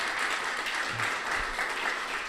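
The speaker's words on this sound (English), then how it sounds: "with a round of applause from you, let's feel some energy" Steady audience applause rolls through the hall at a climate startup accelerator demo day, a continuous crowd of clapping hands at moderate level with faint voices briefly underneath.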